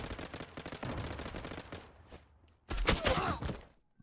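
Rapid automatic gunfire in the online shooter Zula: a long stuttering burst of quick shots, a short lull, then a louder, denser burst before cutting off, with no talk over it.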